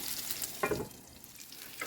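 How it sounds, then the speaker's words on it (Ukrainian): Quiet, steady sizzling of chicken cutlets frying in a pan, with a brief louder scrape or crackle near the middle. "І так смажимо всі котлети."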